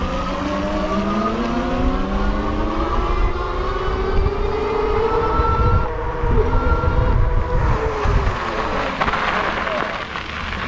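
RIZE Blade electric bike running on throttle at speed, a steady whirring motor hum with strong wind rush and road noise throughout, loud and continuous without pause.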